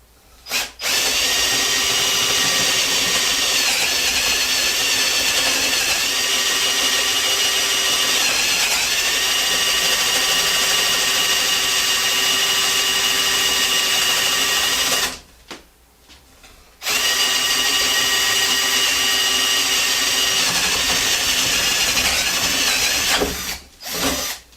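A Hercules 12 volt drill with a dull bit whines steadily and loudly while boring through a wooden board, running almost continuously, with a brief pause near the end before the motor spins up again.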